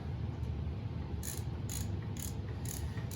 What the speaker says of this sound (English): I'm going to loosen these head bolts up here.